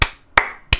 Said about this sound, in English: Give yourselves a round of applause there, lads.